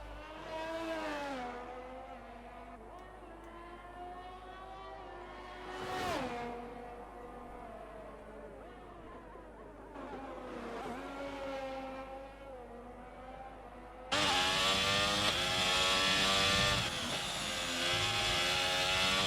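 Race car engine on a qualifying hot lap at Bahrain in a sim racing game, revving steadily with rising and falling pitch through gear changes, turning louder and harsher for the final few seconds.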